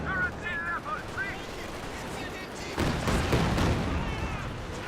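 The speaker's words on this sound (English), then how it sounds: "Grenadiers do get forced back by the close range Katusha barrage." Katyusha rocket barrage in the strategy game Company of Heroes 2, a rumbling series of explosions and gunfire that swells partway through, with game voices and radio chatter heard over the battle noise.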